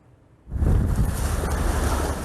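Strong wind and rough sea waves at Çanakkale burst in suddenly after a quiet moment, a loud, continuous roar of gusting wind buffeting the microphone over surging water.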